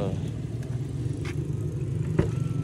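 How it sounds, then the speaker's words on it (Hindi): A car pulls up nearby with a soft, low engine rumble, quiet and steady under light background noise. "आ चुका है हमारा कार।"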